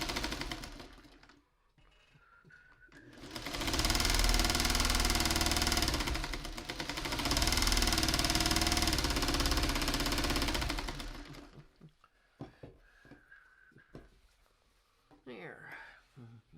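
A sewing machine stitches a Bird of Paradise pattern piece in two long steady runs, loud and close, with a brief pause between them. Light handling noises and a few quiet spoken words come before and after.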